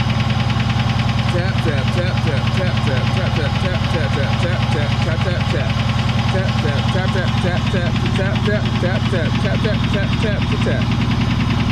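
A car engine idles loudly nearby, with a quick, regular tapping ticking through its rumble, and the car also has an exhaust leak at the back.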